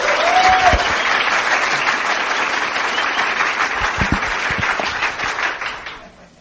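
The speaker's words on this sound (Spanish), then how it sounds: "Aplauso. Aplauso." An audience breaks into loud, dense applause that keeps going for about six seconds, then fades away quickly at the end.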